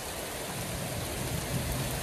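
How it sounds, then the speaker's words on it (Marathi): Light drizzle falls steadily outside a shed at a temple cowshed in Ambarnath, a soft, even hiss of fine drops on surfaces with a faint low rumble beneath and no voices. "तरी पण थोडा रिमझिम रिमझिम चालू आहे इथं"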